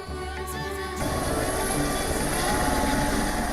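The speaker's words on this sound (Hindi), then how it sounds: "हेलीकॉप्टर में एक बार आधा दर्जन लोग उड़ान भर सकेंगे।" A tourist helicopter circling over Ayodhya, carrying about half a dozen passengers on a short sightseeing flight, gives a loud, steady rotor and engine roar that swells after a brief quieter opening and continues without a break.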